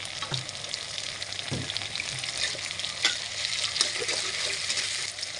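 Tomato, green chili and salt fry in a pan, a steady close sizzle with occasional stirring knocks and scrapes, fairly quiet and without talking.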